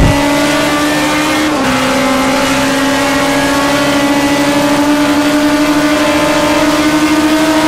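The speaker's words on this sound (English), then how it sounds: "Cars heavy with fuel, bottom out a little bit over the bumps." Race cars heavy with fuel howl steadily around the Long Beach street circuit in a sim racing game, one loud sustained engine tone with a brief pitch drop from a gear change, then holding on without talk.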